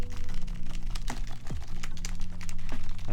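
Fingers run quickly across the keys of an HHKB keyboard to check that they spring back, giving a dense, continuous clatter of plastic key clicks with a few sharper taps, close and steady, with no talking.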